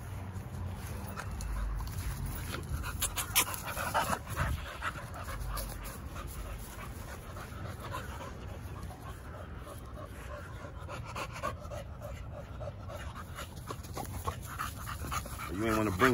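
American Bully dogs pant hard and fast in hot weather outdoors, close and continuous with brief whimpers, while someone talks over them at intervals.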